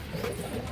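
Andhra line pigeons give a brief low coo, faint and close, against quiet background murmuring.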